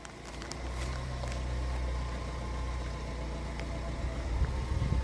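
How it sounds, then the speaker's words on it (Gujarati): A car engine idles steadily at close range, a low continuous hum with a faint rattle, running alone without talk for a few seconds. "તો ગાડી ચાલુ થઈ ગઈ છે"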